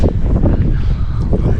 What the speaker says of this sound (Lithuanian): O jau čia vėjukas pučia.